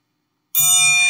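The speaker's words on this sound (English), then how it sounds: "The occasional church bell rings." A single bright metallic bell strike rings out after a moment of silence, loud and close, with a sustained ringing tone.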